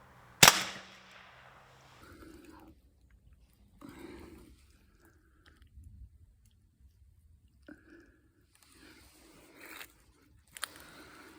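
An HDR.68 home defence launcher fires a spike with one sharp, loud crack near the start, followed by quiet handling clicks and rustles and a small sharp snap near the end.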